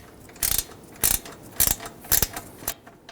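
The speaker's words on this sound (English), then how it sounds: "get the bolt started in. I'm just going to snug that down." A ratchet wrench clicks in five short, close bursts while snugging a bolt on the lower fitting of a 2.0L Ford Edge radiator and condenser fan assembly, with brief pauses between the quick pawl clicks.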